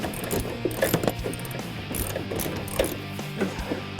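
Ratchet wrench clicking in quick bursts while removing the hood nuts on a 2015-2017 Ford Mustang, close and fairly quiet with short pauses between strokes.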